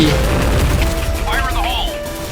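Grenades explode in the online shooter Point Blank. Low, booming blasts mix with crashing game effects and mechanical clatter, loud and close throughout the short burst.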